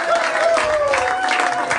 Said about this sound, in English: Can we get a round of applause for my roommate?